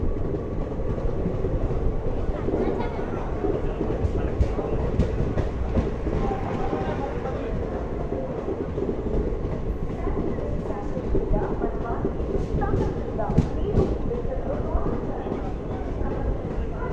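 Ratnachal Express passenger train running near Eluru in the Vijayawada division, a steady loud rumble of wheels and carriage noise with faint clickety-clack, continuous throughout with crowd voices and talk mixed in.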